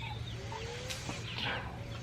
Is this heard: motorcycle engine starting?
no